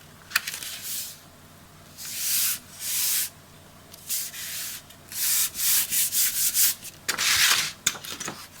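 Paper pieces are rubbed firmly by hand onto a scrapbook album page to make them stick, giving close, dry swishing strokes in short bursts with brief pauses between them.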